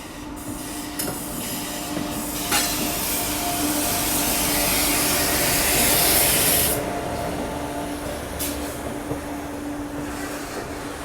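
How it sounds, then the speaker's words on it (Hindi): Passenger train pulling out of Asansol station, its steady broadband rumble and rail noise close and continuous, swelling to a louder peak midway before easing slightly, with no talking. "अपनी जो ट्रेन है वो अब निकल रही है"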